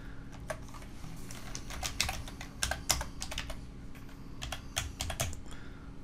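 Keys tapped on a computer keyboard to enter an alt code, a quiet run of close, irregular clicks in small clusters over faint background hum.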